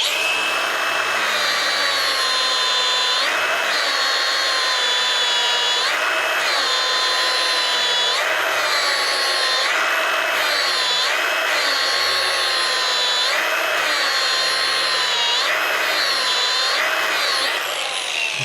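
Power tool with a sanding disc polishing stainless steel butt welds, a loud sustained whine that dips and surges in regular cycles every couple of seconds as the disc is worked across the seam.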